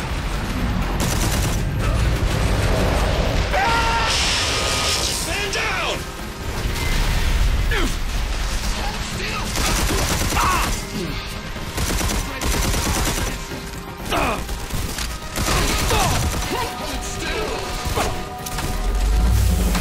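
Airstrike explosions and gunfire in the video game Red Faction Armageddon form a dense, loud, continuous barrage of crashes, blasts and rattling impacts, with voices talking underneath.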